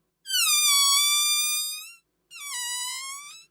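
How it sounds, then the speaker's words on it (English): Air let out of an inflated balloon by squeezing its tip makes a bright, pitched whine that bends slightly, with one long squeal followed by a shorter second one, loud and close with no other sound. "filled it with air, and I let the air out by squeezing the tip of the balloon."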